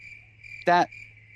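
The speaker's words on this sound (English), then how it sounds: "Those crickets? Yes, those crickets." Crickets chirp in a faint continuous trill, interrupted by one short louder buzzing chirp up close before the quiet steady chirping resumes.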